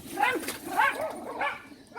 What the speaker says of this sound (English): What are those silly dogs going on about?